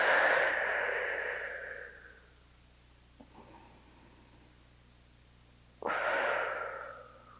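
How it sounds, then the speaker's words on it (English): Two long, close breaths during a side-bend stretch in a lower-body workout class, each a loud airy exhale fading out, separated by a quiet pause. "Few breaths here."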